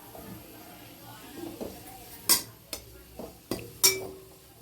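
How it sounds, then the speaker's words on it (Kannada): Dry coconut is roasted in a pan and stirred with a spoon, giving soft scraping and a few distinct metallic clinks spaced about half a second to a second apart. "ಇವಾಗ ಒಣ ಕೊಬ್ಬರಿ ಹಾಕ್ಕೊತಾ ಇದ್ದೀನಿ. ಸ್ವಲ್ಪ ಬೆಚ್ಚಗಾಗಷ್ಟು ಹುರಿರಿ ಸಾಕು."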